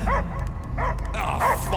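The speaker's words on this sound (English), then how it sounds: "I hear only barking." Cosmo the dog barks in Marvel's Guardians of the Galaxy, three sharp, close barks spaced evenly over a low ambient rumble.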